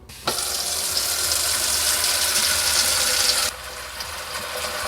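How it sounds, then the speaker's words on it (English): Water poured into a Petlibro cordless pet water fountain makes a loud, steady rushing splash that starts abruptly and runs for about three seconds, then drops to a quieter trickle. "So right now, just adding the water inside first."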